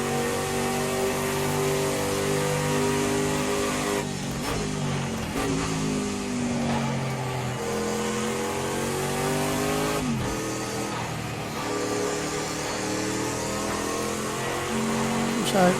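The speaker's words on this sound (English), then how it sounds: "this nice V8 thunders away" A loud, throaty V8 prototype race car engine in Project CARS 2 roars continuously, rising and falling in pitch as it revs and shifts through gears.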